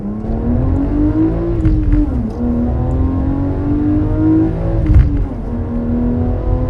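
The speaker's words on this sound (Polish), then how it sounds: "silnik tak przypomina motocykl na zasadzie tego, co teraz Wam pokażę." A BMW M3 E36 with 317 hp revs its engine on a Warsaw street, a loud, continuous rasping drone that climbs and falls in pitch several times, with a motorcycle-like tone and no talking.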